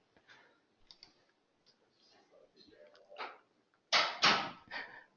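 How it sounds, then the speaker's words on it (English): Several crisp computer keyboard key presses, two loud taps near the end standing out after quieter scattered clicks and soft background talk earlier. "On your keyboard, press the letter N"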